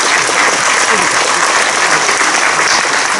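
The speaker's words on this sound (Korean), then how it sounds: "우리 뜨거운 박수 한번 다시 해주시겠습니다" Dense, sustained applause from a large church-assembly audience at a denominational election candidates' policy debate, steady and loud throughout with no pauses.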